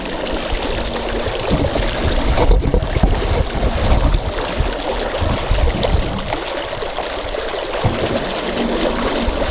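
A homemade ice eater churns pond water into waves, giving a continuous rushing, splashing wash with gurgling and turbulent surges throughout.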